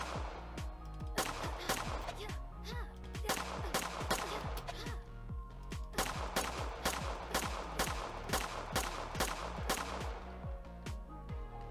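Rapid, evenly spaced weapon fire from The After Hours: Office Predators, with sharp shots repeating in a steady rhythm over a continuous layer of game music, loud and close throughout.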